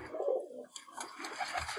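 Close cooing from a Sialkoti pigeon in a dim loft: a low, throaty phrase opens, then softer murmuring notes follow against faint background noise.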